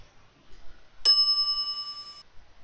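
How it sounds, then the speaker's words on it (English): A shop counter service bell in The Secret of Monkey Island is struck once, a bright single ding that rings on clearly for about a second before cutting off. "I step away from the counter for 2 seconds and some idiot's already ringing that stupid bell."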